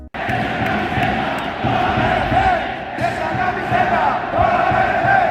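Football fans chanting loudly at their players after relegation, a dense, sustained crowd roar with rhythmic shouting that fills the space throughout.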